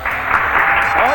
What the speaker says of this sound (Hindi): जिनको लगता है ये बहन विन करेंगी जरा तालियां तो बजाएं।